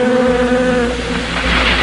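Bees buzzing around beehives, a steady, loud, close drone with a sustained tonal hum throughout, heard alone.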